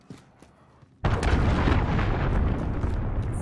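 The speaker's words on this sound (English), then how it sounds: "No, enemy cruise missile!" An enemy cruise missile in Call of Duty Modern Warfare strikes with a sudden heavy blast after a quiet moment, then a loud rumbling roar of debris and fire that lingers to the end.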